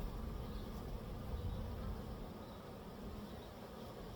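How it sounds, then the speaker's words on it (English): Young honeybee trapped inside a beekeeper's veil, buzzing in a continuous close, muffled drone against a faint background hiss. "I've got a young bee inside my veil"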